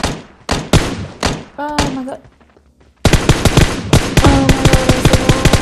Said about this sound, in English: Yeah, I just hit someone with an M16, dude.